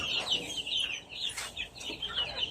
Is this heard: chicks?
yes